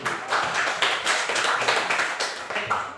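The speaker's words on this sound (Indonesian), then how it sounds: "tepuk tangan dulu" A small classroom group claps in an irregular patter of distinct hand claps, moderately loud and close, continuing for about three seconds with no talk.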